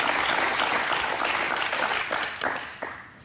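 Studio audience on a French TV talk show breaks into applause, a dense, steady wash of clapping that slowly thins, with a few last claps standing out near the end.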